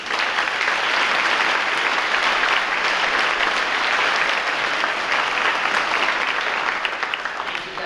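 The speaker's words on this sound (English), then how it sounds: "You can give them a big round of applause" An audience at an eighth-grade awards ceremony applauds the teachers on stage with sustained, even clapping that holds loud for several seconds before easing slightly.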